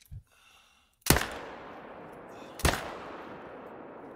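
Two loud, sharp rifle shots at a whitetail deer in the hunting game theHunter: Call of the Wild, spaced about a second and a half apart, each followed by a long fading echo.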